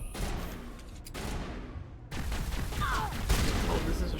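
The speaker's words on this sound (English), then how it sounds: "Oh, this is a shotgun." Shotgun blasts in the video game Mass Effect: a few sharp, loud booming shots amid dense game combat noise and rumble, with a brief whooshing effect, no clear speech.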